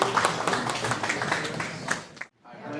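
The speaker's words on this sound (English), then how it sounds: "give him a big round of applause" An audience claps together in a quick, dense burst of applause that holds steady for about two seconds, then stops abruptly and leaves near silence.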